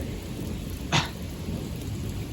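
A thunderstorm with lightning: steady heavy rain hisses throughout while a single sharp thunder crack bursts out briefly near the middle.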